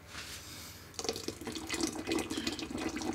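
Tap water runs into a sink as equipment used for making superhot chilli sauce is rinsed, a steady close rush of splashing with brief bursts of spray.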